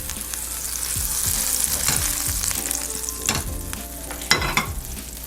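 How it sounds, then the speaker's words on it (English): Bread toasts in butter in a hot pan, a steady crackling sizzle broken by scraping and stirring clicks from a utensil, close and fairly loud with no talking. "now we're going to toast the bread in some butter"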